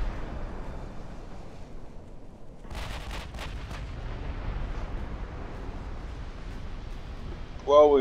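Naval artillery in the game Ultimate Admiral Dreadnoughts booms in a low rumbling roll, with a few sharp cracks and a brief high electronic chirp at the end, amid steady game ambience.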